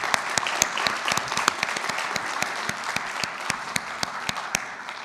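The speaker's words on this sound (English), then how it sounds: "I'd like another great round of applause to the Virginia Tech organization" A modest audience at the ARIN 51 meeting gives a round of applause to the Virginia Tech organization, with individual claps clearly distinct in a steady patter that fades slightly toward the end.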